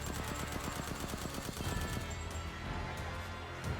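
Rapid gunfire from Resident Evil Village, a fast run of evenly spaced shots followed by a second, denser burst, loud and close with no talk over it.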